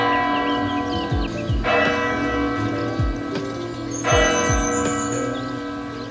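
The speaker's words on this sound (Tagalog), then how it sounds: "Tumunog na mga ka-Mother Earth yung bell. Kampana ng Lourdes." Church bells of Lourdes in France ring out loudly and close, several heavy strikes spaced a couple of seconds apart, each leaving a long shimmering ring that overlaps the next.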